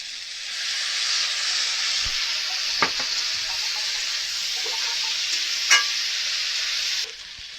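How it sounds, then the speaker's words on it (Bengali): Ginger and cumin paste sizzles in hot oil with vegetables for a Bengali vegetarian dish, a steady bright frying hiss with a few clinks of a spoon stirring against the pan, ending abruptly. "এই পেস্টটাকে দিয়ে দেব।"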